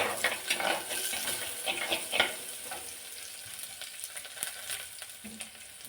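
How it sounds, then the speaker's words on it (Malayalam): Fish head curry with curry leaves being stirred in a pan: frying sizzle with scraping spoon strokes against the metal, busier early and softer later, no talk. "കറിവേപ്പില കാര്യങ്ങളൊക്കെ ചേർത്ത് കൊടുത്ത് നല്ലപോലെ ഇളക്കി എടുക്കുകയാണ്"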